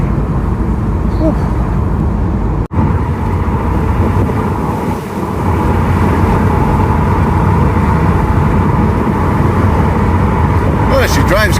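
A 180bhp substitute car driven hard around the block, its engine and road noise a loud, continuous roar buffeted by wind, heard close from inside with a brief dropout early on.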